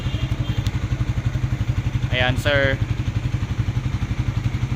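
A stock 2024 Suzuki Raider 150 Fi motorcycle engine runs close by with a fast, even pulsing beat, while someone speaks briefly over it.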